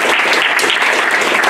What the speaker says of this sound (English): We give a round of applause to Jones Day.